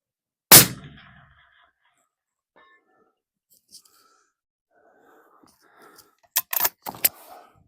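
A single sharp rifle shot rings out loud and close during a 500-yard headshot shooting challenge, followed by a long quiet stretch and a few faint clicks and rustles of handling near the end.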